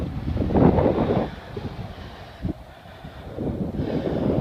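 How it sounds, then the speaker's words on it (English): Wind buffeting a microphone outdoors near Weston, with low rumbling gusts that swell, ease and return, plus a brief knock in the middle; loud and close, with no voices. "Wind's definitely dropped now though."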